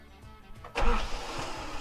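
A pickup truck's starter motor slipping so the engine won't turn over, a sudden loud mechanical whirr bursting in partway through and grinding on steadily without catching, after a quieter stretch.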